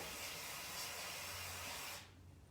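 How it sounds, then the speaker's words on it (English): A sustained hissing spray bursts from an aerosol can of cold spray for about two seconds, then cuts off abruptly, leaving quiet room tone. "now we're going to take the cold spray"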